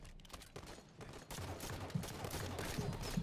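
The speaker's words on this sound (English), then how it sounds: "Stop shooting me!" Halo 5 video game gunfire in rapid bursts, growing denser and louder after the first second as a sustained fusillade over game noise.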